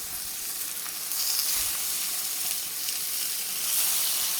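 Bacon strips sizzle steadily in a hot pan with a little oil, a dense, close and even crackling hiss that swells slightly now and then, with no talking.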